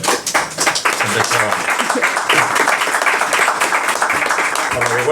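Applause at a comic project presentation, a dense clatter of clapping hands that swells and holds for a few seconds, loud and near, with a voice briefly underneath.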